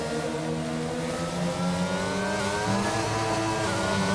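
Race car engine at full throttle in a racing video game, Netherlands circuit, a loud, continuous high-revving whine with rising pitch sweeps as the car accelerates and upshifts, close and unbroken throughout.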